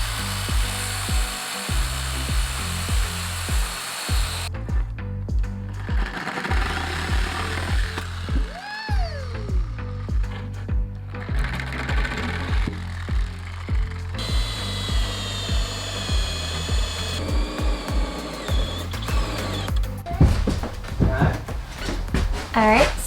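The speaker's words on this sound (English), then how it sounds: "we're setting up everything to cut our countertop" A power saw cuts through a countertop during a camper renovation, its whining run rising and falling over steady background music, with voices and knocks of tools and cupboards around it.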